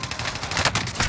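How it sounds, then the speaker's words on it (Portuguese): Rapid, loud automatic gunfire rattles in the video game Warzone, a continuous burst of closely spaced shots with no talking. "Eu dou-lhe tiros na cabeça, o gajo não morre."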